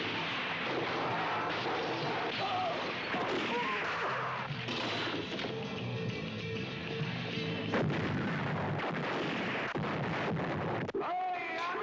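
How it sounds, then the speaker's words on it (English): Gunfire and explosions from a western movie trailer form a dense, loud barrage of booms and shots that runs steadily throughout, with wind-like rumble mixed in. "They showed you every explosion they could."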